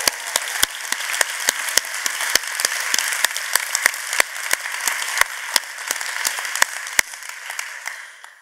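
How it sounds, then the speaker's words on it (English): A conference audience at a keynote address applauds steadily for several seconds, with sharp individual claps standing out from the dense patter before it thins and fades. "Please help me give them a round of applause."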